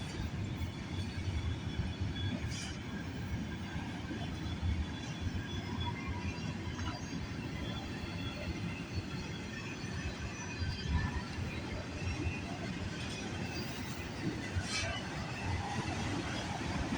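CN westbound autorack freight train rolling past at Sarnia, Ontario, a continuous low rumble of wheels on rails heard from trackside at moderate distance, with occasional faint squeals and clanks.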